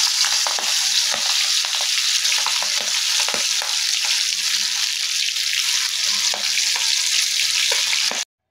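Isaw, grilled chicken intestine, frying with sugar in hot oil, giving a loud, dense, continuous sizzle and crackle with occasional stirring scrapes, close up, ending abruptly.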